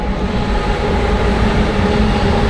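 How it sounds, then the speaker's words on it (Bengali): A freight train rolls past close by at the site of the Ganeswari Express derailment, a steady, loud rumble of wagons with no voices over it. "পাশ দিয়ে ট্রেন বেরিয়ে যাচ্ছে"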